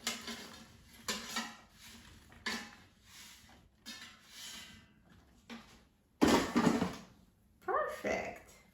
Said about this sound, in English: Let's take them out of the air fryer.